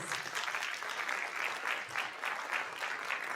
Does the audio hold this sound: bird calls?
no